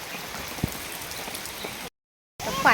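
Rain patters steadily on surfaces outdoors during a monsoon downpour, a soft continuous hiss with a few louder drops, cut by a brief silent gap before resuming.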